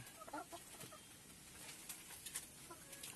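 Faint, distant clucking from a few hens comes in short scattered bursts over a steady background hiss.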